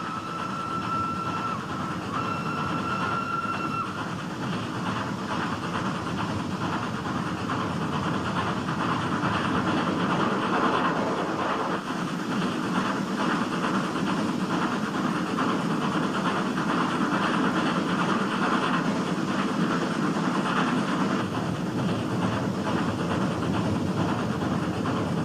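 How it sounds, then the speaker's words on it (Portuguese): Rack railway train descending a steep mountain line in southern India, cog wheels gripping a toothed rail between the tracks; a continuous loud rumble of wheels and carriages with rhythmic clattering, steady and close throughout. "Na parte mais íngreme da descida, rodas dentadas sob o trem agarram uma grade colocada entre os dois trilhos."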